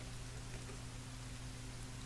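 Steady rainfall in the survival video game The Forest, a soft, even hiss of rain with a low constant hum beneath it, faint and unbroken.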